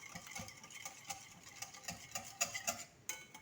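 A whisk beating sugar, vanilla, eggs and oil together in a bowl for a sweet bread dough, giving quiet, rapid clicks and taps against the bowl that pick up in the second half, close but faint, with no talking.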